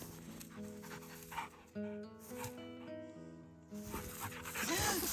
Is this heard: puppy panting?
yes